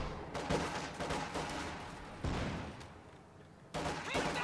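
Panzer Fusiliers fire in a real-time strategy battle, OKW against USF. Rapid overlapping gunshots and bursts come at moderate distance in several waves, with sharp onsets and a rumbling tail.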